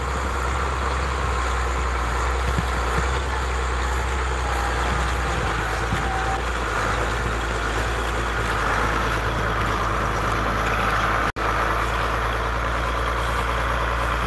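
A tractor engine idles with a steady, loud low rumble in bitterly cold, windy weather at around minus 35, with wind noise blowing across the microphone and no talking.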